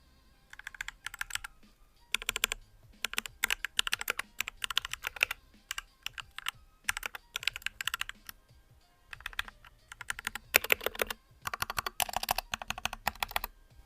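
Steady bursts of typing on a mechanical keyboard with lubed linear switches, smooth muted keystrokes in rapid runs with brief pauses, close and clear with no talking.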